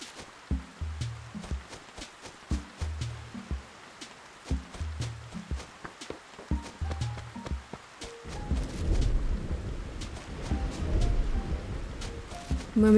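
Steady rain falls in the Animal Crossing video game on GameCube, a continuous hiss that swells over the second half, while brief rhythmic footstep-like thumps and short musical chimes play over it without any talking.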